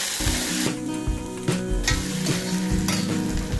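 Tomato, ginger and asafoetida stirred and sizzling in a frying pan, with steady close frying hiss and a few spoon scrapes, no talking.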